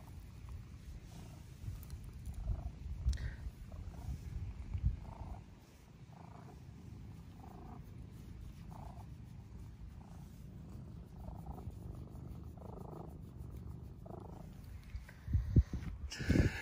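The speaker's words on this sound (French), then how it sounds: "il ronronne comme un échangeur Wagner" A cat purring steadily at close range, a low continuous rumble running under the whole stretch, with a couple of brief louder bumps near the end.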